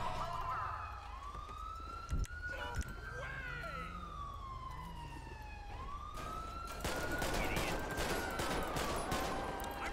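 Gunfire during a police traffic stop in GTA5 with the LSPDFR mod, several sharp shots cutting through a wailing police siren, the siren loud and continuous while the shots come in brief bursts, someone talking at times.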